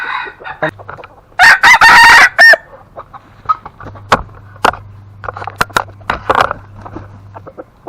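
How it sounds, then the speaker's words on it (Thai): Roosters of a Thai show-bird flock crowing loudly and close, with one long crow and several shorter calls and clucks overlapping against a low steady hum. "เดี๋ยวผมจะพาทุกคนมาดูไก่ผมทีละตัวนะครับ"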